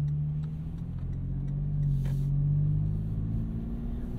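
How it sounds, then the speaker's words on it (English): Steady low engine drone and exhaust rumble from a 2022 Toyota 4Runner TRD Pro with a loud aftermarket-style exhaust, cruising around town; a continuous close rumble swells slightly midway, with no talking. "It's fun to tool around town with this loud exhaust and be obtuse."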